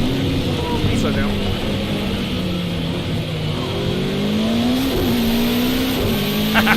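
Engine of a Ferrari race car in a racing video game, droning steadily and shifting pitch with revs throughout, with a brief tire-like squeal near the end and continuous game noise underneath.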